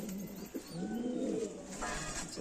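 Domestic flying pigeons, long-endurance birds kept by a fancier, coo in a low, rolling, continuous murmur close by, with a few soft overlapping calls and no voices.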